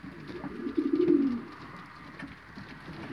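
Pigeons in a breeding loft give a short, soft low coo, one throaty phrase close by, followed by quiet shuffling room noise.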